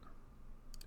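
Two quick computer mouse clicks while installing software dependencies, a brief close double tap at the end of an otherwise quiet moment.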